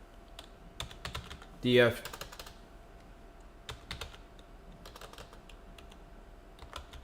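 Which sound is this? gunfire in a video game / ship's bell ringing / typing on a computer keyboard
typing on a computer keyboard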